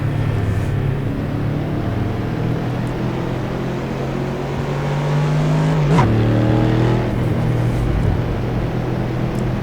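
A Ford Mustang V8 revs steadily in the Assetto Corsa racing game, a loud continuous engine drone that holds near one pitch, rising slightly around a gear change midway, with no talking.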